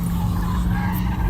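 A Dodge Hellcat Redeye spinning its tires at a Barrett-Jackson event, a steady loud roar of engine and skidding rubber holding without a break, close by.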